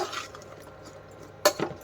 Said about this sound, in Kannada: ನೀಟಾಗಿ ಇವಾಗ ಮಿಕ್ಸ್ ಮಾಡಿಬಿಟ್ಟು